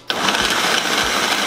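A kitchen blender whirs at full speed through a mixture of egg, sausage and chopped mushroom. It switches on abruptly and holds a loud, close, steady motor hum with slight wobbles, and no one speaks.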